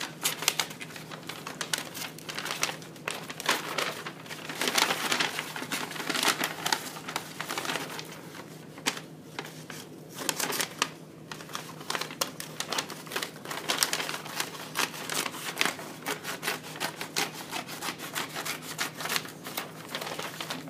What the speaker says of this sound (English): Right down the middle on the side and the bottom to cut my bag apart.